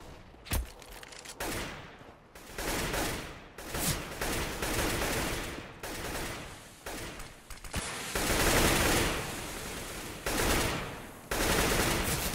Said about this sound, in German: Das klang für mich nach einem Autosniper